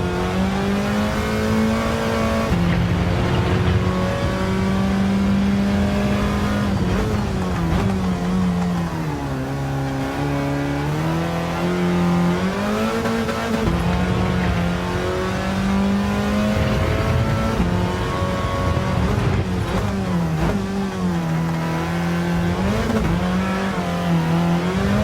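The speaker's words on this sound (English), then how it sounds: "Oh, this Mini sounds freaking mean." A Mini with a 1600 engine in Gran Turismo 7 revs hard and continuously, pitch climbing and dropping through gear changes, loud and close with a raspy exhaust note throughout.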